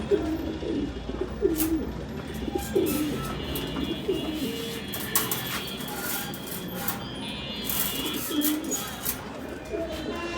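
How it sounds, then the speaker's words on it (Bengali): Pigeons coo repeatedly at close range, low throaty calls recurring in irregular bursts over a steady background hum, with someone talking at times. "অনেক সুন্দর কোয়ালিটি কবুতর জোড়া"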